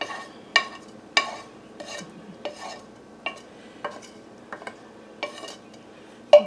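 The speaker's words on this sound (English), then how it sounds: "I'm going to put in the sausage and onion and garlic that we cooked just a minute ago. We're just going to put that right in our crock pot." Cooked sausage, onion and garlic are scooped from a pan into a crock pot, with a series of distinct spoon scrapes and clinks against cookware at a steady pace in a quiet kitchen.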